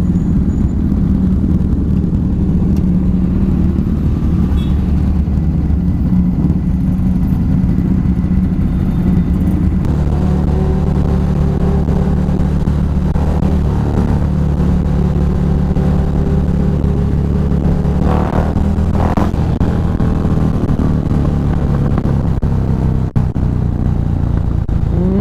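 A motorcycle crawls through heavy stop-and-go traffic, its engine a steady close rumble that rises with revs, with surrounding vehicle noise and occasional passing sounds.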